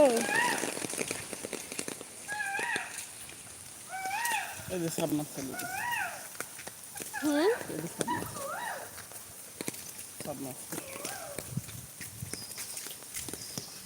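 Heavy rain falls in Pabna, Bangladesh, as a steady, dense hiss with scattered close patters. A voice talks over it throughout.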